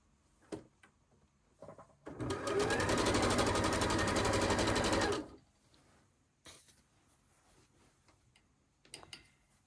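A sewing machine stitches quilt blocks with a quarter-inch seam, running in one steady, fast, close burst of about three seconds between quiet handling clicks and rustles.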